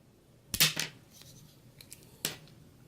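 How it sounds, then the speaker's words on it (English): A TackLife 13-in-1 multi-tool's cutter snaps through stiff 12 AWG wire, two sharp, close clicks a couple of seconds apart, with faint handling rustles between them. "Right here is some 12-AUG wire. As you can see, it is pretty stiff. So let's give it a good cut."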